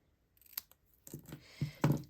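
Scissors cut through cardstock and tape in a few crisp, close snips, starting quiet and growing sharper toward the end.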